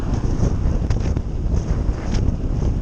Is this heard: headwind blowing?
yes